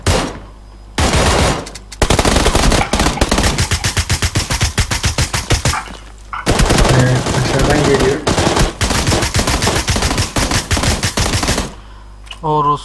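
Rapid automatic gunfire in the PUBG Lite battle royale shooter, with dense bursts of shots rattling almost continuously over several seconds, brief gaps between volleys and loud, close reports.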